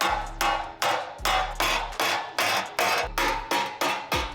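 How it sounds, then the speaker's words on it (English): Sharp metallic hammer-and-dolly blows shaping a Porsche metal patch panel strike in a steady series of about a dozen ringing taps, close and loud, each decaying quickly before the next. "Can I hammer and dolly now to clean up the inside?"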